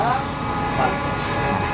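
Tegal Bahari economy-class train departing Pasar Senen station in Jakarta, a steady rumble of wheels and carriages with a drawn-out horn rising over it, continuous and fairly loud.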